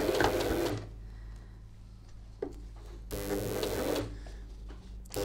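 A sewing machine stitches reflective piping onto a garment in two loud bursts of rapid mechanical whirring, separated by a quieter pause with a faint click.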